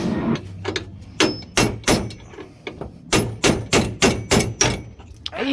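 A hammer drives a chisel against a Ford Figo bearing cap, producing a dozen sharp, close metallic knocks in uneven bursts, some in quick succession.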